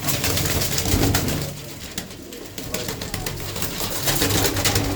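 Pigeons coo repeatedly at close range, soft throaty calls overlapping with rustling and flutter in the background.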